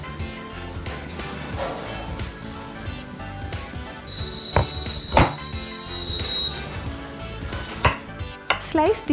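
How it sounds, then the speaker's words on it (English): A knife chops fresh ginger on a cutting board, with a series of close, irregular thunks against the board and a brief ringing tone partway through. "cut the ginger as shown"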